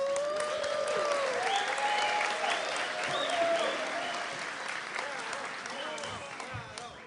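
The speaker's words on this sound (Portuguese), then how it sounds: "uma salva de palmas" Audience at a web security forum applauding a speaker, a moderate wash of clapping that slowly thins out, with cheerful voices and whoops mixed in.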